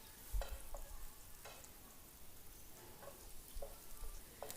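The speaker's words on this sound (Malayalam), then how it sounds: "ഇനി അതും നമുക്ക് ഈ എണ്ണയിലൊന്ന് നന്നായിട്ട് ഒന്ന് കളർ മാറി വരുന്നത് വരെ ഒന്ന് വറുത്തെടുക്കാം." Garlic frying in oil makes a faint, steady sizzle, with a few soft stirring scrapes at intervals.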